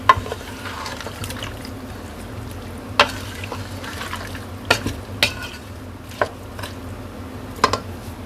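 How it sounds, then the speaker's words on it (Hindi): Arvi gosht ingredients with turmeric and water being stirred together in a pressure cooker pot, giving soft wet squishing and scraping with a few sharper clinks of the spoon against the metal. "अब इन सब चीज़ों को अच्छे से मिक्स कर लें।"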